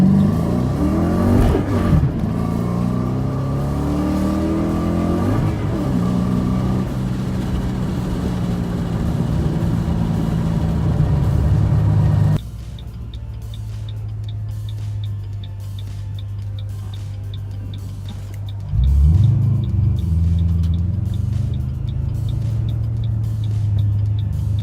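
A car under power shifting revs hard with rising engine pitch, a brief cut, then another climb before dropping to a steadier lower drone while a fast ticking runs alongside, loud and close throughout.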